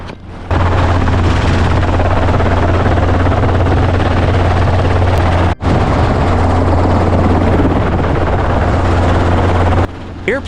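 Helicopter flying low during wild boar hunting in Spain, a loud continuous rotor thrum with deep pulsing beat, constant and close, briefly cutting out twice.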